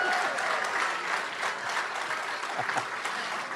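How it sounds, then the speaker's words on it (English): Crowd applause at an election primary night event, continuous dense clapping with cheering texture throughout, moderately distant and even in level. "She's clapping, too."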